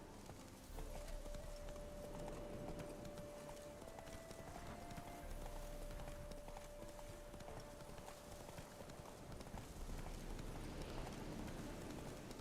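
Roach the horse gallops in The Witcher 3, with rapid, steady hoofbeats running continuously at low volume.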